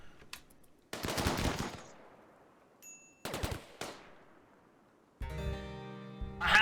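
Charge SMG bursts in the video game RimWorld fire as several sharp, rapid volleys separated by pauses, each trailing off, with a sustained buzzing tone near the end.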